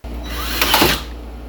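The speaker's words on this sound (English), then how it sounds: "I needed to drill about a 1-inch hole in the wood carrier in order to attach my stepper motor to it" A drill boring a one-inch hole into a wooden carrier for a drawing machine, a steady close motor whine that swells and roughens near the middle as the bit bites and the wood starts to split, with no talk.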